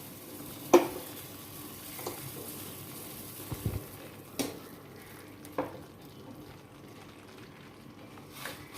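Sugar syrup poured into roasting wheat flour for wheat halwa, with a soft sizzle and scattered clinks and scrapes of a spoon stirring in a pan, no talk.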